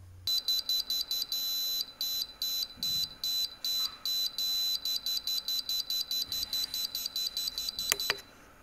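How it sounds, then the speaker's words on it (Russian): A rapid string of sharp, high electronic beeps from a digital magnetic level's angle indicator repeats in quick bursts with brief pauses, fairly loud and close, ending in a couple of clicks. "Особенно хочется отметить подключаемую звуковую индикацию горизонтального и вертикального угла."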